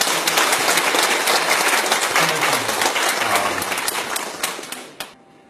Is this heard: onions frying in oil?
no